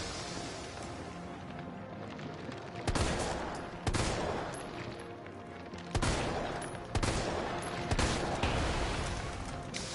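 Magnum revolver shots in Resident Evil 3 ring out one at a time, about six loud, sharp cracks spaced roughly a second apart over a dim, rumbling game background.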